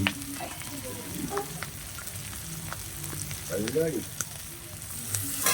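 Curry ingredients with bay leaf sizzle in a pan for a cabbage and prawn dish, a steady frying hiss with spoon scrapes and stirring clicks, and a voice briefly audible in the background.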